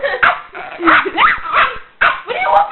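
A dog barking and yipping in several close, loud bursts with short gaps, mixed with whiny, whimpering tones, and a person talks around the barks.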